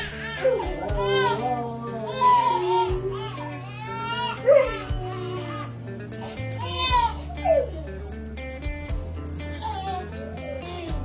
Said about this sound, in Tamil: எங்க ஒரு குழந்தை பயங்கரமா அழுதுகிட்டு இருக்கு